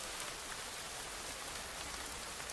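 Heavy rain pouring down in a dense, even hiss of countless drops, constant and fairly loud with no voices.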